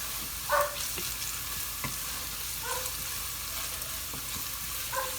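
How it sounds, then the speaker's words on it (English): Garlic and curry powder sizzle steadily in a pan for a maize-and-beans githeri, with occasional soft scrapes and clinks of a stirring spoon over the constant frying hiss. "making sure that my garlic is not burning, and then I cook it together for a little while longer"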